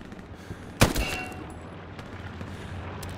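A single sharp sniper rifle shot cracks out in the Hell Let Loose battlefield game, loud and close, with a brief reverberant tail fading into steady low background rumble.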